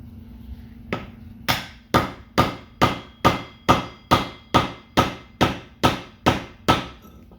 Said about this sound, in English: So we'll see what happens when we give this bearing a couple of smacks, see if we can get it all pushed out.